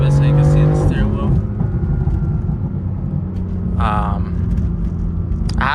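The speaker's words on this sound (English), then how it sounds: "I'm gonna just have it rev out a little bit" BMW M4 F82 engine revving up with a rising roar, then settling into a loud, steady rumble, with a person talking over it.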